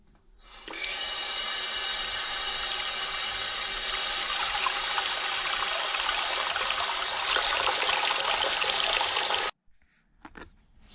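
Water pours through a newly fitted basin waste during a leak test, a steady close splashing rush that starts abruptly and runs for about nine seconds before stopping, followed by a few faint drips and knocks.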